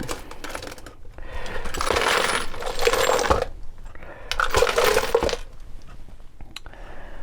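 Hands rummage through a pile of metal screws and bolts in two loud bursts of clinking and rattling, separated by quieter pauses.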